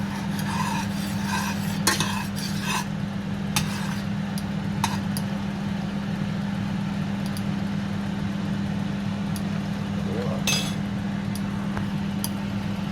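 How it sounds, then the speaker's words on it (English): A spoon stirs a pot of couscous, light scraping and clinking taps against the pot over a steady low hum, with no talking. "Just give this another stir."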